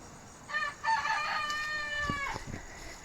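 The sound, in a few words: Silkie chicken crowing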